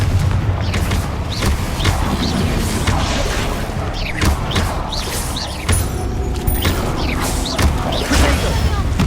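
Spell explosions from Bombarda and Confringo burst in quick succession during Hogwarts Legacy combat, a dense, loud barrage of booms and crashes layered over constant battle noise with no pause.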